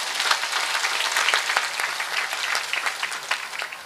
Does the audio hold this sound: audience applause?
yes